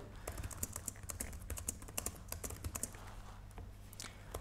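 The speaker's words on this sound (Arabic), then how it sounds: "خلينا نجرب تاكتيكال فيدباك مال الكيبورد نفسه" Quick, light key taps on an HP Spectre laptop keyboard, a fast irregular run of soft clicks close by, easing off slightly toward the end.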